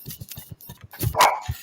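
A dog barks in a rapid series of short, close, loud yaps, with a brief whine near the end.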